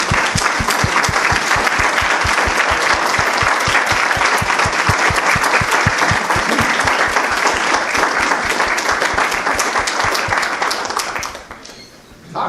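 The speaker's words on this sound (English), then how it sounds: "I would like you all to stand up and give him a good applause" A seated audience at a lecture event bursts into loud, dense applause that holds steady for about eleven seconds before quickly dying away, with a brief thump at the end.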